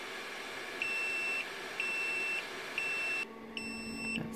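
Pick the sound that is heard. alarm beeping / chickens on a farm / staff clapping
alarm beeping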